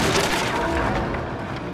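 A burst of sharp cracking gunfire in Little Nightmares 2, loud and dense, lasting under two seconds.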